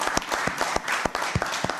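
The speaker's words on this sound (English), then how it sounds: "I want you people here to give my mayor, Point Fortin, a round of applause" Audience applause for the mayor of Point Fortin at a community gathering, a dense run of clapping with a few louder individual claps standing out over a steady wash of hands.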